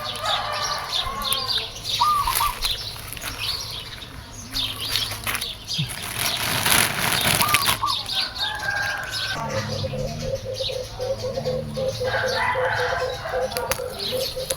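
Many birds chirp and call busily at once in a sweet leaf tree by a house, with fluttering wings and a rooster-like crow mixed into a loud, continuous chorus.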